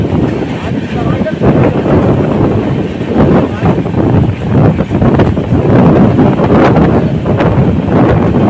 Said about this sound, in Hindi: इतना तेज हवा चल रहा है भाई साहब